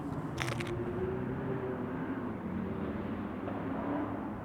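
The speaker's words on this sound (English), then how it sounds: "there's like people going nuts with their cars over there" Cars being driven wildly at night somewhere nearby in Beverly Hills, heard as a steady low engine roar and rumble that stays fairly distant, with a brief faint rattle near the start.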